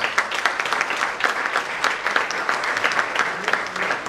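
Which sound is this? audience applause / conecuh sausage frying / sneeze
audience applause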